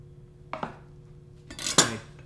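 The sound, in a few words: knife slicing fresh mozzarella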